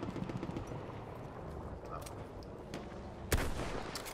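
Video game gunfire in Battlefield 1: a dense rumble of distant battle shots, then one loud, close burst near the end, with no speech.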